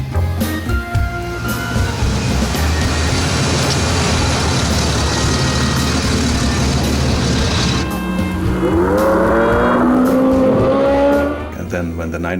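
Engine noise from Porsche race cars on a track, a loud steady roar that shifts pitch and changes character partway through, with some talking mixed in.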